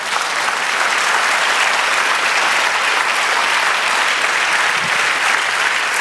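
Church congregation applauding during a Spanish-language prophetic worship service, a dense, steady wall of clapping that fills the room loudly and without a break from start to finish.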